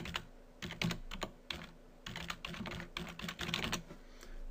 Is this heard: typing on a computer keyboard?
yes